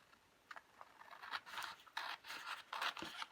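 Scissors snipping through removable wallpaper vinyl along a marked line, a run of crisp close cuts that grows denser and louder toward the end, with no talk.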